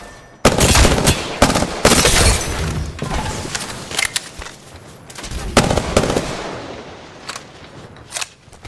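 Machine gun fire in a battle royale video game: loud, close bursts of rapid automatic shots in several volleys, with the sound dropping to quieter scattered shots and mechanical clatter toward the end.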